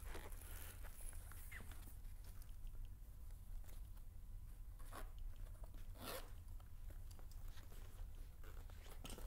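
Zippers close on a carrying case for an IKAN PT-ELITE-PRO teleprompter, two quick, faint zips heard close by amid quiet handling noise and soft rustling.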